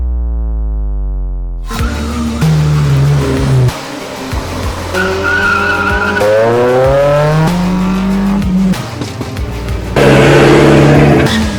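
Autocross race cars at a grassroots racing event in the Philippines, engines revving hard and accelerating with repeated tire squeals and skids, loud and close, shifting pitch as the cars run the course.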